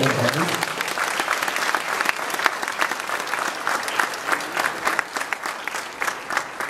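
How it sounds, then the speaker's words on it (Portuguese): A church congregation claps together in a rousing round of applause during an evening service, individual claps standing out in a brisk, uneven rhythm that continues throughout. "Você pode glorificar a Deus com a salva de palmas nessa noite?"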